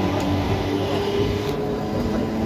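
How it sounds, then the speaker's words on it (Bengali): A train speeds past on an Indian railway line: a steady, loud broadband rumble and rush of wheels and air that fills the whole short stretch without a break. "এত স্পিডে ট্রেনটা গেল যে ঠিক মতন ক্যাপচার করা গেল না"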